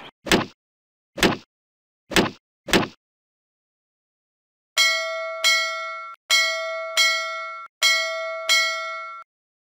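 Bell chimes in a French children's PC learning game, sounding as four short separate strikes and then five longer ringing tones in a steady row, loud and clear with no speech.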